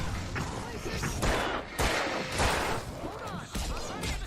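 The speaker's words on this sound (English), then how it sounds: "I can set off more of the fireworks from here" Fireworks going off at a concert stage in State of Decay 2, a dense stream of booming bursts, crackles and whooshes in close succession with a voice talking over part of it.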